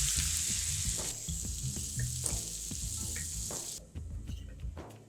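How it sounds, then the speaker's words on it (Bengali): A bowl of onions sizzles and crackles loudly in hot oil for egg dum biryani, with a steady hiss and repeated clinks of stirring, the frying dropping away near the end. "সেই তেলে আমি 1 বাটি পেঁয়াজ দিয়ে দিচ্ছি"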